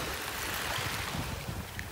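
Ocean waves rolling onto a beach shore in North Naples, Florida: a steady, full wash of surf and wind hiss fills the whole stretch, close and continuous, with no voices.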